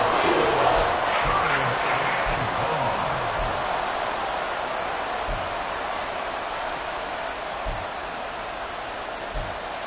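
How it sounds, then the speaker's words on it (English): Football stadium crowd roaring steadily late in an NFL Giants versus Eagles game, a dense wall of noise that holds loud throughout, with a few faint thumps and shouts rising out of it. "This crowd turning up the decibel level."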